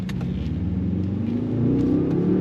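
A 2025 Mercedes-AMG S 63 hybrid sedan accelerates smoothly, its engine note rising steadily in pitch through the revs, a continuous deep, close hum without any talking.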